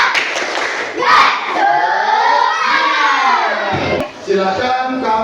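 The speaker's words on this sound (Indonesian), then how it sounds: "Kita tepuk semangat dulu." A school class stands and performs a rhythmic spirit clap chant in an Indonesian classroom, loud children's voices chanting and shouting together over sharp clapping, with a brief dip before the chant resumes.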